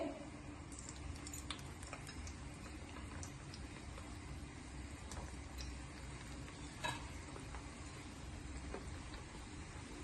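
Kala jam dough balls frying in oil over a low gas flame give a soft, even sizzle, with faint scraping and occasional light ticks as they are gently stirred.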